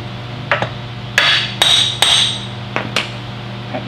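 A hammer strikes steel brake brackets on a Dana 60 front axle, about seven sharp, ringing metallic blows in an uneven rhythm, close and loud over a low shop hum.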